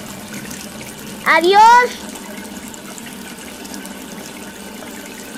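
Water pours from a cartoon tap in a steady, hissing flow, while a voice briefly shouts a short exclamation over it before the rushing stream continues alone.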